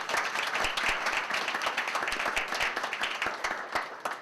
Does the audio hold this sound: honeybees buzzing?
no